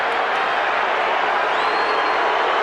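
A large boxing arena crowd at an Oscar De La Hoya fight roars in a dense, steady wash of noise, loud and continuous throughout, with cheering and scattered clapping blended in and no clear individual voices.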